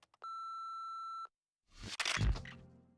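Phone call beep in the video game No More Heroes, two brief clicks followed by a single steady electronic tone held for about a second, then silence before a burst of louder game noise.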